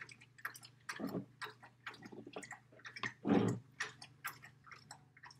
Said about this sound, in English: my dog likes to drink water every time I film